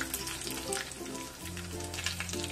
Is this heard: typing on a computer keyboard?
no